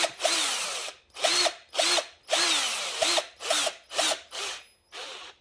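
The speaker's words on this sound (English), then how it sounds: "you want to just drill in sideways first to make a start" A power drill bores sideways into the trunk of an oak bonsai in repeated short bursts, about eight close, loud whirring runs separated by brief pauses.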